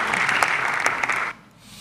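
A crowd applauds loudly at a ceremony marking cooperation between Côte d'Ivoire and North Korea, dense steady clapping that stops abruptly after about a second and a half, leaving quiet room tone.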